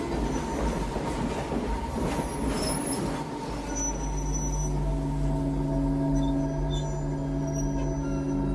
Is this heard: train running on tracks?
yes